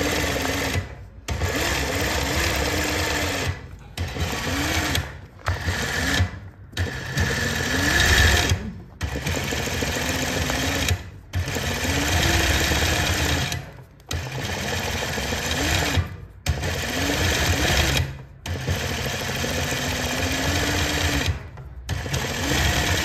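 A sewing machine stitches badla embroidery in petal shapes, running in long steady whirring bursts broken by short pauses, loud and close, with a faint repeating whine in each run and no talking.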